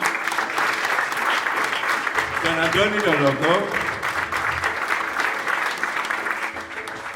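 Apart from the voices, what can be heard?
audience applause at concert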